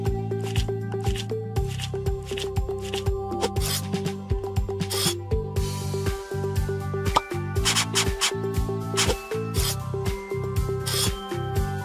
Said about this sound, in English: Rub the iodine now.